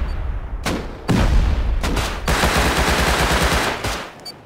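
Rapid gunfire during a raid in the Rust video game, loud bursts of automatic shots separated by short pauses, followed by a long sustained volley that fades out.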